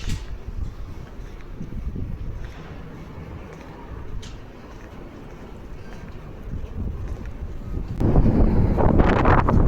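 Steady outdoor wind rumbles and buffets the microphone throughout, growing stronger and gustier near the end.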